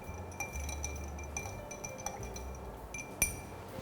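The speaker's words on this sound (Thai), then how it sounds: "คนส่วนผสมทุกอย่างให้เข้ากันค่ะ" A spoon clinks against a glass while stirring oolong tea, pomegranate syrup and honey together, with light repeated taps and a louder single clink near the end, no talk.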